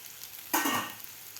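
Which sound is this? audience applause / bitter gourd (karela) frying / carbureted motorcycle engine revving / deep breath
bitter gourd (karela) frying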